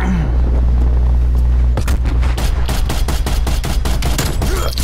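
DMR-14 rifle fire in Call of Duty Cold War: after a low rumbling lull, a loud, rapid string of sharp shots rings out in quick succession with booming echoes underneath.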